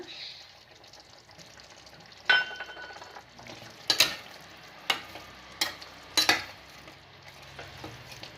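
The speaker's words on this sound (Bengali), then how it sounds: "নাড়াচাড়া করে দেব ভালো করে" Chicken stirred in a pan with chopped ginger and kasuri methi sizzles softly under a series of sharp spoon-on-pan clanks and scrapes, spaced unevenly.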